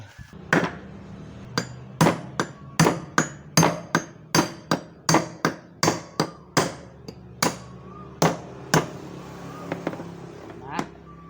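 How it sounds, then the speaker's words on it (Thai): A hammer pounds a part of a Hatari table fan during a repair, about twenty sharp, loud metallic strikes in a steady rhythm, close by, with some faint talk between blows. "แล้วก็ใช้ค้อนตอกเลย"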